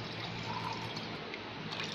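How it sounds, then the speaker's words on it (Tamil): Soaking water drained from jeeraga samba rice poured into a clay pot for chicken biryani, a faint steady trickle and splash that runs without a break. "இப்போ அரிசியில் இருக்கிற தண்ணியை எடுத்து சேர்த்துக்கலாம்."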